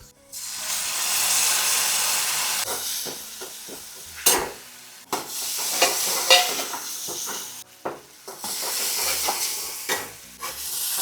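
Spices for a boiled-potato sabzi sizzle in hot oil in a home kitchen, a loud, steady frying hiss broken by a few stirring clatters and brief pauses, with no voices.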